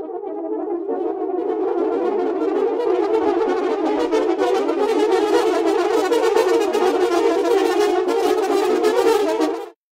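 Sampled French horn section recorded on close microphones, a dense sustained ensemble tone that plays continuously and loud for about ten seconds, dry and upfront, with no talking.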